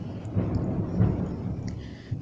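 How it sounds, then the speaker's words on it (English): Low, rolling thunder rumbles steadily across a stormy sky ahead of rain, a broad, dull roar that swells slightly near the middle and holds throughout. "And yes, there's thunder, is about to rain"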